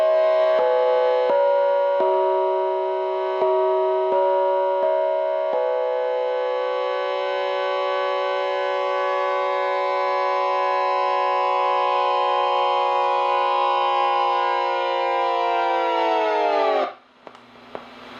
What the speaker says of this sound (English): You did get the notes mixed in with all of this sort of musical distortion.